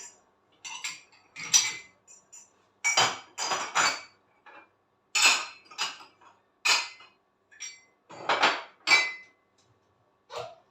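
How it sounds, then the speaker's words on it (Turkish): Metal spoons clatter and clink as they are set into a drawer or cupboard, a run of short bright bursts in uneven rhythm, close and fairly loud, with no talking. "Kaşık koyuyoruz. Çok düzenli koymadık."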